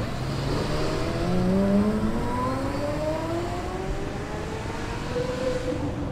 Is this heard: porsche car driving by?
yes